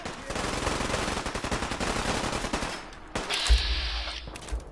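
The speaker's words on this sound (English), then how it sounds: "What are we shooting at?" Automatic gunfire from the Fallout 4 video game, a dense sustained burst of rapid shots at steady volume for about three seconds, then a brief pause before another heavy blast with a lingering ringing tail.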